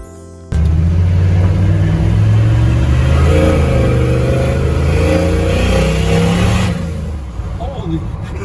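A turbocharged truck engine revs hard and accelerates, a loud, close, sustained roar that builds for several seconds before easing off into a lower idle-like drone.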